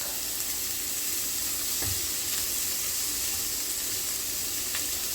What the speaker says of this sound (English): And let that saute and just cook.